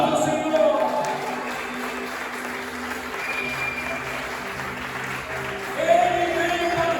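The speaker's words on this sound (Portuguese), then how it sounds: "dê um forte aplauso ao Senhor" A church conference congregation applauds in praise, a steady moderate wash of clapping blended with crowd noise and some sustained tonal sound underneath, rising slightly near the end.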